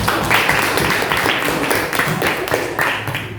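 A sixth-grade classroom gives a round of clapping for a student, steady rhythmic hand claps from a small group filling the whole stretch, fairly close and even in level.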